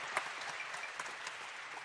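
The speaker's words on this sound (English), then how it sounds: "I know we're in a church, but you are allowed to clap." Audience applause inside a church at a Christmas extravaganza: a steady, fairly faint wash of clapping running throughout, with a few sharper claps standing out.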